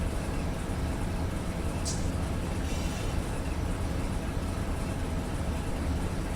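Amtrak Auto Train in the Run 8 rail simulator game gives a dense, continuous rumble of engine and rolling wagons, steady and loud throughout, with a brief higher squeal near the two-second mark.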